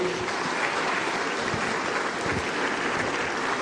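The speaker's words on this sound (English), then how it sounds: "A round of applause for the President of our Republic." Steady, dense applause from a large audience at the Afreximbank Annual Meetings 2023 fills the whole stretch evenly, honouring the President of the Republic, with no break in the clapping.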